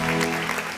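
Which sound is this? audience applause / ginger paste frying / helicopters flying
audience applause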